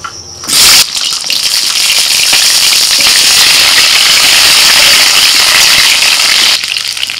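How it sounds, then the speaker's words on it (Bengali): A sharp burst of loud sizzling as pointed gourd hits hot mustard oil in a wok, settling into a steady, intense crackling hiss that continues before cutting off. "কড়াইতে সরষের তেল দিয়েছিলাম, তেলটা গরম হয়ে গেছে। এবার পটলগুলো ছেড়ে দিচ্ছি।"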